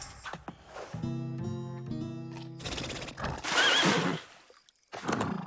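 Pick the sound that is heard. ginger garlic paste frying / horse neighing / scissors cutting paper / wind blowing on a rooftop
horse neighing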